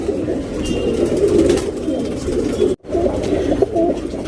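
Tournament pigeons, a two-year-old male among them, coo steadily and closely, a continuous low throaty burbling that carries on throughout, broken only by a very brief gap near the end.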